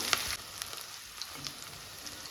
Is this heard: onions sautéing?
yes